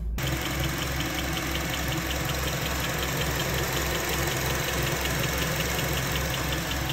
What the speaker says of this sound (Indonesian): begitu mesinnya gue nyalain setelah panas ternyata bunyi tek tek tek tek tek tek